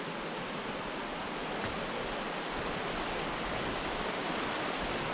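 A cold, clear, mountain-fed stream in the New Zealand countryside gives a continuous broadband rush of flowing water. It stays steady and fairly close, with no voices.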